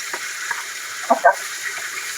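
Steak, onion and garlic fry in a pan with a steady, moderate sizzling hiss. A few soft utensil clinks and stirring sounds rise briefly over it.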